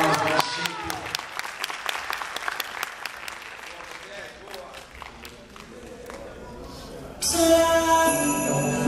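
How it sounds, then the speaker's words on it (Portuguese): Steady applause from a crowd at a bodybuilding contest fills the room, dense clapping that swells then fades before louder cheering and noise burst in at the end. "Pessoal, uma salva de palmas para a gente."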